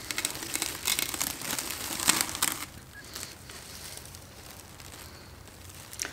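Cellophane peeled from a paint tin lid crinkles and crackles up close, loud at first and then fading to lighter rustles.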